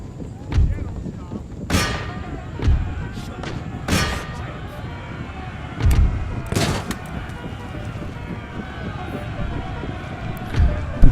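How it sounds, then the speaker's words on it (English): Artillery and musket fire thud repeatedly on an Empire: Total War battlefield, heavy booms spaced a second or two apart over a busy background, with someone talking at times. "God, those guns are powerful."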